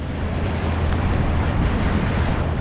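Big waves roll and crash against a jetty at Island Beach State Park inlet, a loud, continuous roaring surge with heavy wind noise on the microphone.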